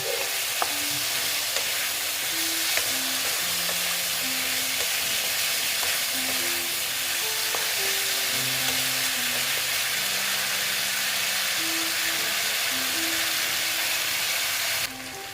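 Sweet pumpkin sautéing in a pan, with a steady dense sizzle and frying crackle that runs continuously for the whole stretch, close and fairly loud, with faint scattered tonal clinks and no talking.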